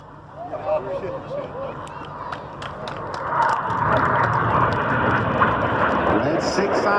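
Red Arrows jets performing a formation roll at an air display in Gdynia, engine roar building from a distant rumble to a sustained loud whoosh, with a commentator talking over it throughout.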